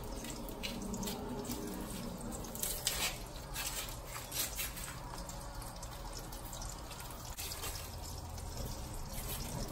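Kitchen tap running steadily into a sink while something is washed for a Haitian gros sèl fish dish, a continuous close splash with occasional irregular sloshes and drips.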